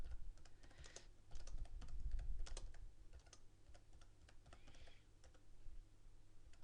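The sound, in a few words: typing text on a computer keyboard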